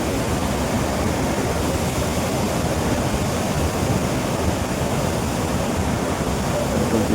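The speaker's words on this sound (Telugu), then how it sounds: "వాల్ ఇస్తే వాటర్ వెళ్తుంది, వాటర్ సౌండ్ ఎక్కువ వస్తుంది" Water rushes steadily through the outlet gates of a 148-year-old lake's wooden-walled sluice, a loud, continuous broadband roar that stays even throughout without a break.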